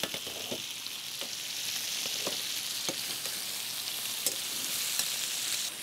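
Potatoes and cauliflower for a vegetable kurma frying in a pan, a steady bright sizzle with a few soft clicks and pops scattered through, close and continuous with no talking.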